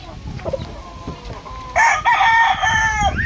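A gamefowl rooster clucks briefly, then gives a loud, close cock-a-doodle-doo crow that rises and holds for over a second, with faint talk in the background.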